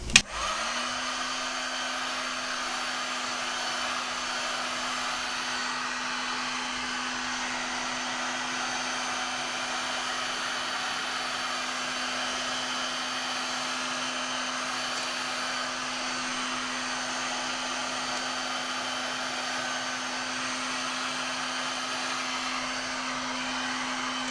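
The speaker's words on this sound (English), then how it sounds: "I'm going to heat it with my heat gun" A heat gun warms a curing resin piece in a steady, continuous blowing whir with a constant hum. It runs alone and unbroken from just after switch-on.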